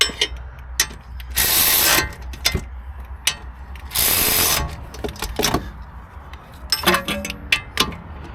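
A ratchet socket wrench tightens new bolts on a Mini in a cramped spot, with bursts of rapid clicking pawl strokes separated by pauses and scattered metallic knocks, close and fairly loud.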